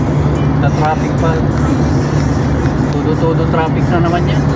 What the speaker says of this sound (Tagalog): Todo traffic na naman yan.